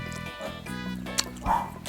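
A dog gives a brief bark or two nearby, mixed with background music and household noise.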